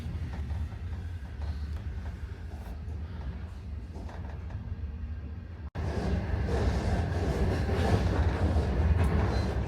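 A passenger train in China near the Russian border rumbles steadily along the rails, the clatter growing louder and busier partway through as the carriage noise rises.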